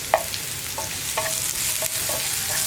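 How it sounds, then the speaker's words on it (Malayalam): Sliced onions with salt sizzle in a pan for a sprouted chickpea thoran while a spoon stirs them, giving several quick scraping strokes over a constant close frying hiss. "സവോളയും കൂടി ചേർത്ത് നന്നായിട്ടൊന്ന് ഇളക്കുക"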